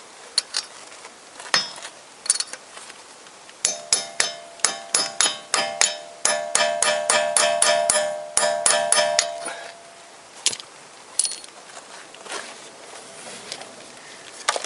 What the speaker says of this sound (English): and then I start to hammer